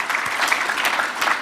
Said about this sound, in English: Can we give them a round of applause for being our MCs this evening?